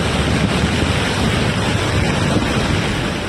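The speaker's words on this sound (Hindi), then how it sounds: "पानी के तेज बहाव के साथ पहाड़ों का मलबा भी लोगों के घरों के आगे से गुजरने लगा।" Flash floodwater rushing with mountain debris past houses in Mandi, Himachal Pradesh, a loud, continuous broadband roar filling the whole stretch without letup.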